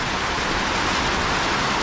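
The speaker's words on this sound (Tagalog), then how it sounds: "lumakas na naman ang ulan" Heavy rain falls in a steady, dense hiss that fills the whole moment without a break, with no voices over it.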